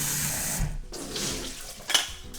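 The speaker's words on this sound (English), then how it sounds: "I'm going to put some water," Water from a tap pours into a pot holding a cup of rice for washing in a home kitchen. The splashing is close and runs in short bursts with brief pauses, and no one speaks.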